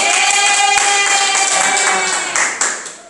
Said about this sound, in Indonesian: Ya tepuk tangan dulu untuk Yeni